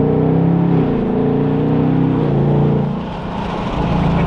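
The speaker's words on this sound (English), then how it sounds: "This car comes stock with full active valved exhaust. It sounds very nice." A 2026 Ford Mustang GT Premium engine revs loudly up close, its stock active valved exhaust droning and rising in pitch, dipping briefly before climbing again.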